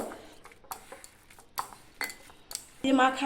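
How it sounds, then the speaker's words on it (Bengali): Green banana kofta batter is mixed by hand in a metal bowl, producing sporadic clinks and soft squelchy knocks, close up, ending in a louder burst of clatter; faint background murmur. "আমি এখন এটাকে হাত দিয়েই একটু ভালো করে মাখিয়ে নেব।"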